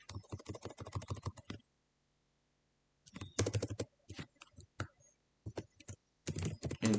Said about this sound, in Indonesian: Misal di sini kita ketik aja email titik dua